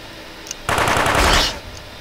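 Rapid automatic gunfire in the video game UFO: Aftermath, a loud burst of dense shots lasting about a second, alone with no talk.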